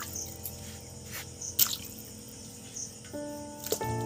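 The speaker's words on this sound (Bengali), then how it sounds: "চিকেনগুলো আমি এই জলের মধ্যে দিয়ে দিচ্ছি" Chicken pieces are dropped into a bowl of water, giving a few quiet, scattered drips and soft wet splashes over a low background hum, with no talking.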